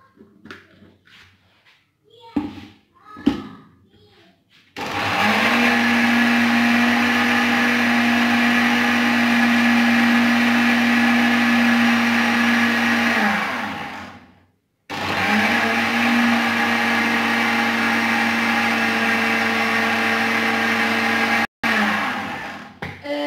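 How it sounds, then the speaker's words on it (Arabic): A Moulinex blender grinds chocolate spread ingredients with a loud steady motor whine that runs for about ten seconds, stops, then starts again; soft handling clatter and brief talk come before it. "انا غادي نستمر في الطحين ديالو حتى يتطحن"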